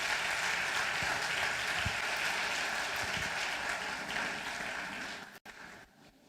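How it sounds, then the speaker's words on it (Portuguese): A church congregation gives a strong round of applause, a dense sustained roar of clapping from a large crowd that carries on for several seconds before tapering off. "Você pode dar um forte aplauso ao Senhor Jesus."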